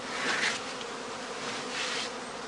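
A settled bee swarm in straw skeps hums steadily, a dense continuous buzz of many bees close by with slight swells in loudness.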